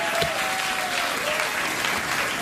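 Audience applause in a comedy sketch on a late-night show set, a dense wash of steady clapping filling the whole moment with a faint sustained tone running beneath it.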